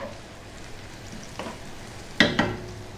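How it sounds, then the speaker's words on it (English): Fresh whole chilies dropped into a pan of frying masala for a rohu fish curry, a soft background sizzle broken by two sharp bursts of crackle near the end, close, with no talking. "Next up, let's get those fresh chilies in."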